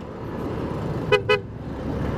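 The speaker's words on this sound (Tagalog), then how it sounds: "Grabing traffic kamoto papuntang Tagum." Heavy road traffic on the way from Tibungco toward Tagum, a steady low rumble of engines with two short car horn toots close together near the middle.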